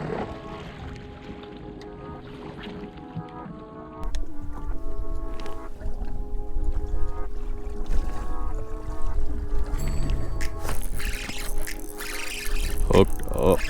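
A fishing boat drives across a lake while searching for walleye, its motor droning steadily under wind and water noise, louder after the first few seconds, with people talking over it.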